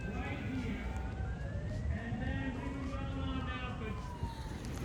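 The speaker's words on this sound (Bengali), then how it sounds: "এত ব্যস্ত জায়গা এটা যে সবসময় পুলিশের সাইরেনের আওয়াজ পাওয়া যায় এখানে" A wailing police siren rises and falls repeatedly in the distance over steady street noise in Washington DC, its sweeping tone clearly audible throughout.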